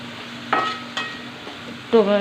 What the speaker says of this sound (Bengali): টমেটোটা গোলা পর্যন্ত ভেজে নেব